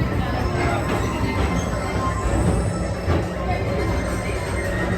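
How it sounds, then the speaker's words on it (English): The Magic Kingdom PeopleMover rolls steadily along its elevated track at Walt Disney World, a continuous rumbling hum with faint background chatter and muffled announcement-like voices throughout. "your express train keeps on rolling through the future"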